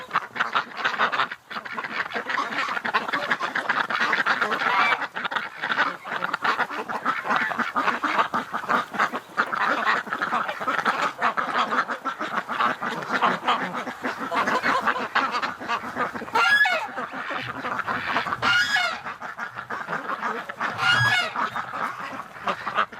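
A flock of ducks on a winter morning keeps up a dense, continuous chorus of quacks and honks close by, with a few louder calls standing out near the end.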